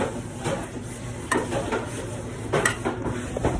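Oil is spread around the inside of a metal pizza tin, giving soft swishing and scraping with a few light metallic knocks.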